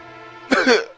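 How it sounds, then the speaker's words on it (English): A single short, close cough, abrupt and dry, following a moment of quiet. "Cough."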